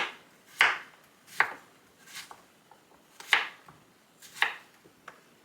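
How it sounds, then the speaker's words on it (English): A knife dices Yukon Gold potatoes in about six distinct, evenly spaced chops that sound crisp and close, with no voices. "And I'll just get them all diced up."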